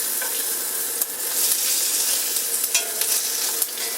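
A Monte Cristo sandwich fries in a cast iron skillet with a steady, bright sizzle, close and continuous, broken by a few soft scrapes and spatters.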